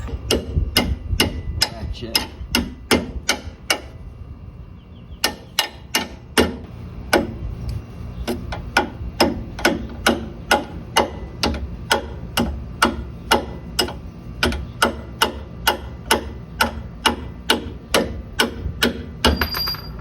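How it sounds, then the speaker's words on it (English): A half-inch ratchet works loose an 18 millimeter bolt on a vehicle axle, giving a long run of rapid, sharp metallic clicks in steady bursts with brief pauses, close and clear. "I'll just get my 1/2 inch ratchet."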